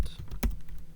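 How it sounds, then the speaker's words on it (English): Quick burst of keystrokes on a computer keyboard, close and clear, with one sharper key press in the middle and lighter taps around it, no voices. "So just type in Fox Brute"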